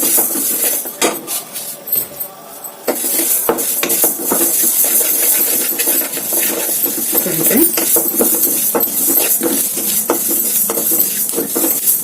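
Seeds crackling and spluttering in a hot pan, a dense run of sharp pops and snaps over a steady sizzle, with metal clinks from the pan and utensil.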